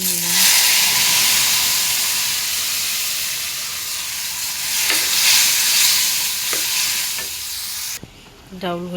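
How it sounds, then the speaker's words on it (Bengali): Masoor lentil dal cooking in a pot gives off a loud, continuous sizzling hiss with stirring scrapes and bubbling, and a voice breaks in briefly at the end. "মুসুর ডাউল রান্না করছি"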